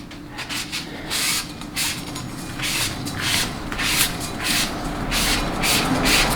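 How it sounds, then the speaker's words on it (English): Hand sanding a transmission bushing journal with 1500 grit sandpaper, heard as a steady series of soft, close back-and-forth rubbing strokes with a light hiss, continuing throughout. "let me go over it real quick again with 1500 grit"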